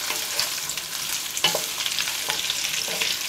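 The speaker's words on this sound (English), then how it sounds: "Give it a quick stir." Braised pork with tomato gets a quick stir in a hot pan, a close, loud sizzle with scraping spatula strokes over a few seconds.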